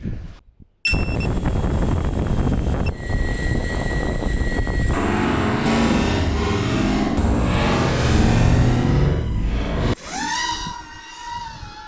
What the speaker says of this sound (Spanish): el dronete preparado para empezar a volar